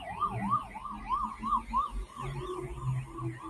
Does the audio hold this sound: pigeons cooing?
no